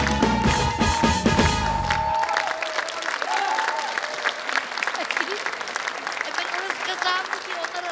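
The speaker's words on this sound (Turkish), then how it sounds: "alkışlarla sizi çarşıya alıyoruz" A game-show studio audience applauds loudly and steadily, with a short burst of music at the start before dense clapping fills the rest.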